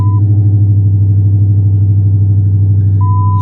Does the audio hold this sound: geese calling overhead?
no